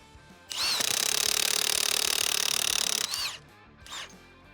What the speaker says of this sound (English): I'm going to use this, the 7/16 high torque impact wrench.